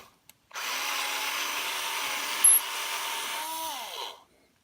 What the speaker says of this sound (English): I just got to give it a little bit more of a grind.